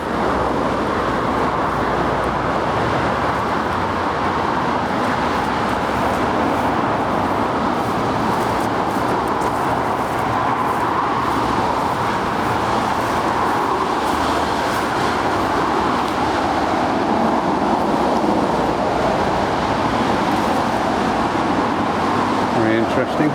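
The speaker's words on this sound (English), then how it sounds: "away from the traffic" Steady roar of road traffic passing near a railway viaduct on a footpath beside the River Stour in Dorset, a constant broadband rumble throughout with voices faintly underneath.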